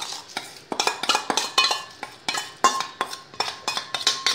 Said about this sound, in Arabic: ونبدا نقلب الخليط كويس جدا عشان نتاكد ان الرز بتاعنا اتوزع في كل الصينيه بتاعتنا